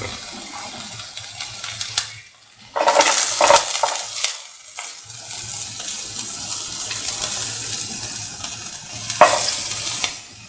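Garlic frying in a pan for cottage cheese tomato rice, a steady sizzle broken by bursts of stirring and scraping, close and fairly loud, with a stretch of running tap water mixed in.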